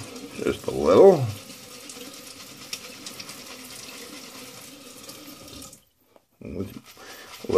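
Tap water runs steadily in a bathroom sink during a straight razor shave, a soft continuous wash that fades out near the end, with someone speaking briefly over it.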